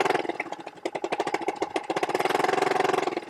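Honda outboard motor on a J22 sailboat sputtering and catching as it starts, settling into a close, steady mechanical running rhythm with dense repeated pulses.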